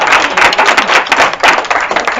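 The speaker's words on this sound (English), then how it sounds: "Can we give everybody the biggest round of applause for this evening?" An audience claps at an evening training event, a dense burst of hand claps that stays loud and close for the whole short stretch, with no talk over it.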